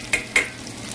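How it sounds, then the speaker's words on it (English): Peppers, red onion and scallion greens and whites sizzle in a hot pan as they are tossed in, two quick stirring scrapes over a steady close frying hiss. "So I'm gonna toss this into it as well."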